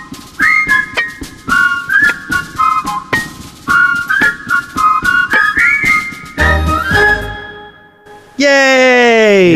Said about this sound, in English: Are we ready to start whistling?